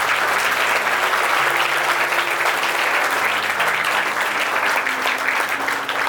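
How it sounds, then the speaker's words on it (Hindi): An audience at a Harela folk festival event at Doon Defence Academy applauds Mayor Sunil Uniyal Gama. The clapping is sustained and dense, filling the room from start to finish, with faint crowd murmur beneath. "एक बार सर के लिए तालियां होनी चाहिए एक बार।"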